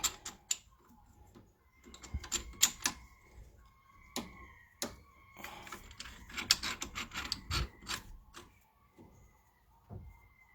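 Brake caliper piston wind-back tool being turned slowly with a spanner, giving irregular close ratcheting clicks and metallic ticks in short bursts, with quieter gaps between them.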